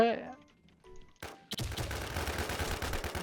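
Gunfire in a Thai-played online shooter game, a dense run of rapid shots after about 1.5 seconds, loud and continuous, with a player's voice and quieter game sounds before it.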